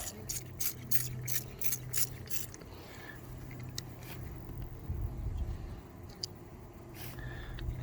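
A handheld spray bottle mists sugar water laced with essential oil down between beehive frames, a quick run of sharp hissing squirts repeated in close succession, then a few scattered sprays over a low steady background hum.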